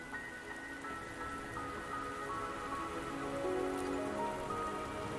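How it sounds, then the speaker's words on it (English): Steady rain falls continuously in the video game Wuthering Waves, a dense, even patter of drops hitting surfaces, with soft tonal game music faintly underneath and no voices. "Don't worry, the rain won't last much longer."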